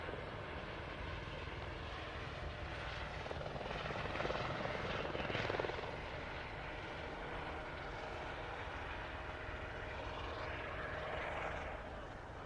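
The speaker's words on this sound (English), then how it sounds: "Now look at the takeoff." Aircraft take off at the RAF Waddington airshow, a loud, continuous engine roar and propeller drone that swells slightly midway and persists throughout, with faint broadcast commentary and crowd noise underneath.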